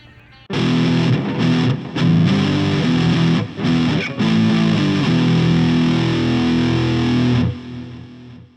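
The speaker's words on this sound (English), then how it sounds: "the distortion side sounds really cool" A heavily distorted electric guitar, a Donner amp or effect unit, plays loud, thick chords, ringing out with brief cuts between strums before stopping abruptly.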